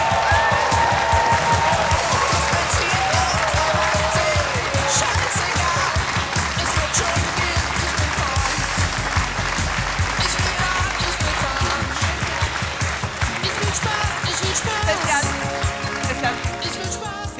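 A studio audience at a German satirical cabaret show bursts into sustained, loud applause and cheering to welcome a candidate, dense clapping continuing throughout with speech mixed in.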